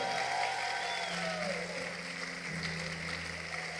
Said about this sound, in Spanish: Alguien denle un aplauso fuerte al Señor.